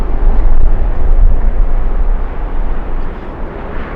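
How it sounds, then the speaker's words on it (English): A Boeing 777 jetliner at LAX on a windy day, heard as a loud, broad roar of engine noise and buffeting wind that slowly fades over a few seconds, with no voices. "Big 777 coming in."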